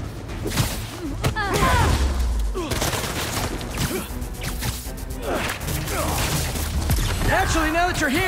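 Gunfire in the Marvel's Spider-Man 2 video game, bursts of shots and sharp impacts crackling close and loud amid whooshes and crashes, with voices talking over the action.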